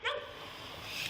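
A dog barks indoors during a police arrest at a home: a single short, sharp bark at the start, then a noisy, rushing room background.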